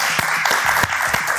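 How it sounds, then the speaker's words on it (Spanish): A crowd applauds at an awards interview for a Cannes Lion win, with dense, loud clapping that carries on steadily throughout. "Felicitaciones, por eso un aplauso."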